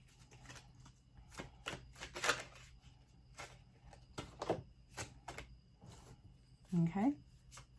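Tarot cards being shuffled up close in a series of quick papery riffles and taps, with a brief voice near the end.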